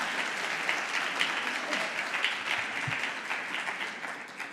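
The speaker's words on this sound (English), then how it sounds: "Please, all of you all, a big round of applause for ma'am." A conference audience at ICAN Dubai 2023 breaks into steady, dense applause that holds at an even level for several seconds as a chief guest is invited to the stage.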